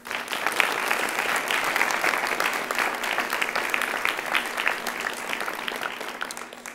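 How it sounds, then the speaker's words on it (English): Sustained applause from an audience at a school board meeting, honoring a football coach; steady dense clapping throughout, moderately loud and even, with no talk over it. "Could we give him a round of applause?"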